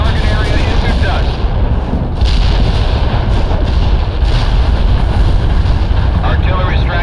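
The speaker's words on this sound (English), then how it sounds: "Artillery strike was on the mark." Artillery strikes hit in the war game World in Conflict, a continuous thunder of heavy booms and rumbling explosions with wind-like roar, loud and sustained throughout, while voices talk over the barrage.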